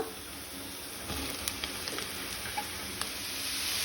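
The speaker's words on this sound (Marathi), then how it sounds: "कांदो तळसून जालो, आता हांव तातूंत अळमी घालता।" Mushrooms tipped into a pan of fried chopped onions set off a soft, steady sizzle with faint crackles and a few brief clinks, heard alone at low level.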